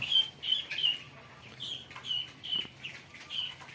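Guinea fowl give repeated high, sharp calls in short bursts, mixed with brief flutters of wings, fairly close in a quiet setting.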